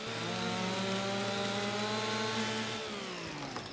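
A chainsaw in Farming Simulator 25 cuts deadwood, its engine held at a steady high whine for nearly three seconds before dropping off as the cut ends, loud and up close with no talking.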